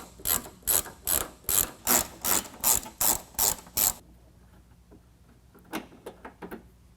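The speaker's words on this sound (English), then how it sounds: "We're going to pull those out with a 10mm." A ratchet with a 10mm socket backs out fender bolts on a 2022 Ford Bronco: about ten quick, crisp clicking strokes in a steady rhythm, close up, followed by quieter scattered clicks and handling noise.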